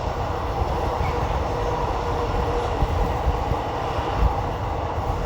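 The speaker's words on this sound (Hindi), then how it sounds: "अपनी ट्रेन क्रॉस करने लगी है अंजी खद।" A DEMU passenger train rolls across the Anji Khad cable-stayed railway bridge, a steady loud rumble of wheels and running gear with occasional clanks, continuous throughout with no talking.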